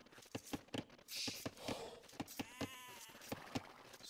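Sheep bleat in a multiplayer video game match, a few short wavering calls among regular clicky game sounds and soft thumps, faint and without talk.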